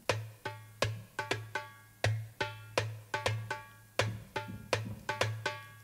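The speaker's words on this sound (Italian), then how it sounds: "Per questo layer ho utilizzato un Darbuka" A darbuka drum sample, a Middle Eastern hand drum, plays a quick rhythmic pattern of crisp slaps over a resonant low ringing tone, alone and up close.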